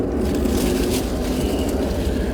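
A plane passes over a backyard garden, a broad steady engine roar filling the short stretch at moderate loudness, with no talk.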